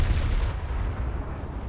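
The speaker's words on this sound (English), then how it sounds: "we'll do another salvo of that" HMS Tiger's naval guns firing a salvo in War Thunder Mobile: one heavy, booming blast that rolls into a long low rumble and fades slowly.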